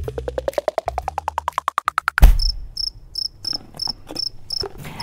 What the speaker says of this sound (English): They eat crickets.